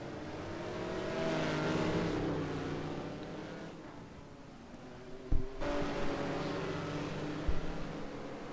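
Koenigsegg GT1 race cars in a racing video game at Laguna Seca roar and rev, engine tone rising and falling, with a couple of sharp thumps midway.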